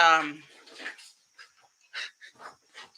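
A pet dog plays with a floppy plush puppy toy, giving a short burst of panting and whimpering followed by scattered soft yips and snuffles, close by and fairly quiet.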